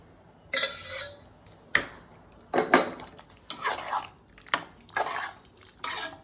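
Cooked dal (lentils) goes from a vessel into the pot for bisi bele bath. About seven separate metallic clanks and scrapes of utensil on pot come close by, with wet drips and quiet pauses between them.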